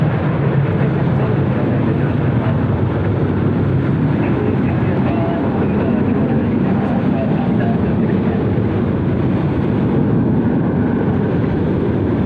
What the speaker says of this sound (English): Flight 1353 out of Houston is our next inbound flight.